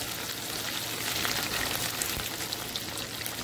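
Prawns frying in hot oil, a dense, continuous close-up sizzle with fine popping crackles throughout a few seconds, with no voices.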